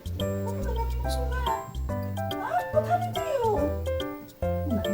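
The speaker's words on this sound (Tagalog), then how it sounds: "Ito yung aso namin na mabait." A dog whimpers and yips in a series of high, wavering, whiny cries that keep coming close and loud for several seconds.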